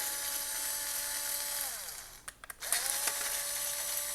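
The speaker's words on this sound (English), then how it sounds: "We need to remove 6 screws." Screws come out of a FireStorm firing system panel: a quiet, steady whirring tone winds down, followed by a few brief clicks and taps before the whir resumes.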